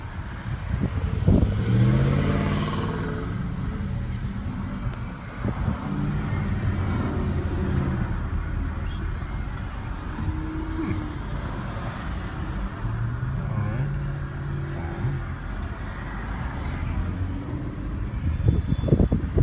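A 2016 Chrysler Pacifica's 3.6-litre V6 hums quietly while driving, a low steady engine and road drone with faint rises, soft and unobtrusive throughout.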